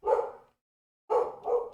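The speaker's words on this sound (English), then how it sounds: "Sorry, dog's barking." A dog barks close by, two or three loud, full barks with a pause between the first and the next pair, no other sound around them.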